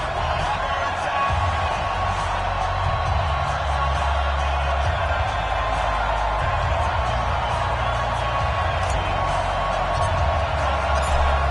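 A Baltimore crowd at M&T Bank Stadium in a football video game keeps up a steady, distant roar with faint cheering beneath two commentators talking throughout.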